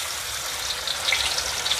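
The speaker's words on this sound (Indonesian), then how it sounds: "Kita tumis sampai harum ya teman-teman ya" Ground spice paste stir-fried in oil in a wok for chicken noodles, giving a dense continuous crackling sizzle with small popping bursts, close and steady; no voices.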